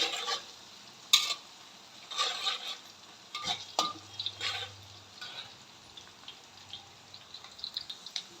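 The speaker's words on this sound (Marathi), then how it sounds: "कांदा पण छानपैकी असा परतलेला आहे" Onions sautéing in a generous amount of oil for a large batch of khichdi, a faint sizzle under intermittent scraping and stirring with occasional clinks, no talking.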